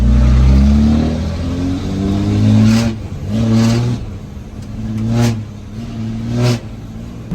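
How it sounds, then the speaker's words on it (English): A vehicle engine with mud caked on its tires revs hard several times in a row, each rising surge dropping back between bursts, loud and close in a dusty outdoor setting. "I got some mud on my tires I need to break loose"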